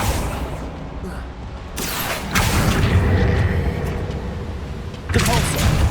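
Depulso and Accio spells fired in Hogwarts Legacy land as heavy booming bursts, one after another, over a steady rumbling background.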